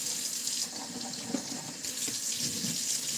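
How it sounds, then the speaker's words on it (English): Kitchen tap water running steadily into a sink while a spatula is washed, a constant close hiss with small splashes and clatters as the utensil moves under the stream. "I gotta wash my spatula"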